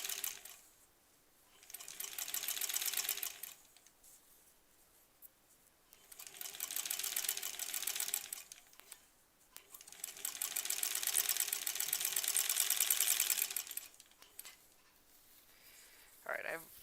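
A sewing machine stitches fabric pieces for a quilt border in four bursts of rapid, even whirring separated by pauses, with a brief click at the end.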